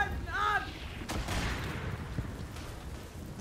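Gunfire and artillery blasts from a WW1 video game, with a sharp bang at about one second, scattered distant shots and a low rumbling battle bed, plus a brief shout near the start.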